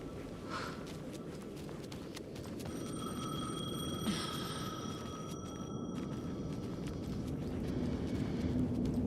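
A telephone rings in the video game Alan Wake 2, its steady electronic tone sounding for a couple of seconds midway over a dim, rustling ambient background.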